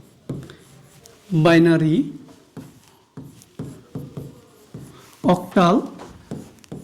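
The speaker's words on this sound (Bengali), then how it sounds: "দেখো আমি একটু পার্ট পার্ট করে লিখি এখানে।" A pen or marker scratches in short strokes on a board while a teacher writes out number system terms, the faint scribbles broken up by someone speaking in between.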